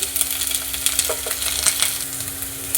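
Curry leaves dropped into onions frying in oil for tamarind rice, a continuous close sizzle with a steady hum underneath and a few light spoon clinks.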